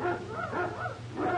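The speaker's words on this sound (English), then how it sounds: "Quiet those hounds. They annoy my attorney." Hounds in a castle giving a few short, muffled barks and whimpering yips, faint and somewhat distant over a low background hum.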